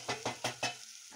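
Smokies sausages coated in sauce are stirred in a pot, four rhythmic scraping strokes with a sizzling, wet texture, close and clear, then a brief pause and a fainter scrape.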